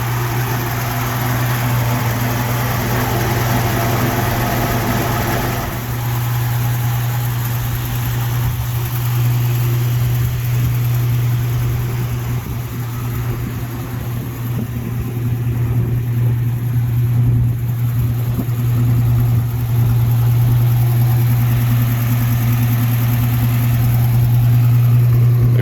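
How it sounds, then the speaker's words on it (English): A 1954 Dodge pickup engine idles with a steady, loud, low droning hum that holds evenly throughout, with slight wavering in its rumble and no talking. "It's a 1954 Dodge I've been working on."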